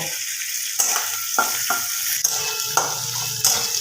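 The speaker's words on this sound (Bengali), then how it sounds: "তেলের মধ্যে ভেজে নেব" Onions fry in hot oil with a steady crackling sizzle, interrupted by a few sharp scrapes and stirs against the pan, close and moderately loud.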